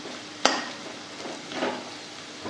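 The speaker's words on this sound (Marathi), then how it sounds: "बटाटा आता चांगला परतून झालेला आहे" Potato pieces being stir-fried in a pan for spicy sabudana khichdi, a soft sizzle under occasional spatula scrapes, with one sharp tap of the utensil against the pan near the start.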